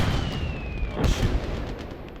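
15 cm artillery in the WWII game Call to Arms – Gates of Hell: a falling shell whistles down, then a heavy boom lands about a second in and rumbles away amid ongoing distant battle noise.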